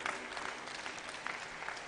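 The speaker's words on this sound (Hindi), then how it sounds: "जोरदार ताली बजा दो भाई" An audience gives dense, continuous applause, many hands clapping at once, steady and moderately distant, with no clear speech on top.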